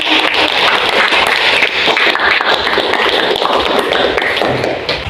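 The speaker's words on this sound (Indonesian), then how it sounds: "berikan aplaus dulu" Audience applause at a teacher performance exam session in a classroom, a dense, steady wash of many hands clapping close by, continuous and loud throughout with no pauses.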